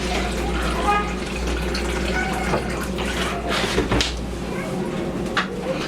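Darkroom film developer chemical poured into a container while preparing to develop film, a steady liquid splash and trickle running close by under conversation, with a few clinks toward the end.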